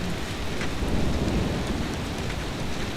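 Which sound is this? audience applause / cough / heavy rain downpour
heavy rain downpour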